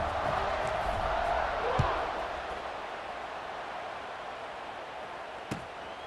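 A stadium crowd in the video game EA Sports College Football 26 roars steadily at a football game, a broad wash of noise that swells early and then eases, with a couple of sharp thuds.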